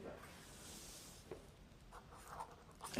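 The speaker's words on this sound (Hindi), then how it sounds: "सबसे पहले इधर लिखेंगे अलिफ" A pen writing the Arabic letter alif on paper, a faint close scratching stroke with soft rubbing, heard alone in a quiet room.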